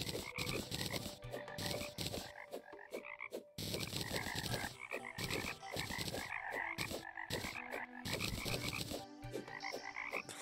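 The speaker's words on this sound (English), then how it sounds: "There's so many frogs merged into the ceiling." Frogs croaking in the video game Terraria with the Calamity mod, a dense, steady chorus of rhythmic croaks repeating loudly over ten seconds with no voices.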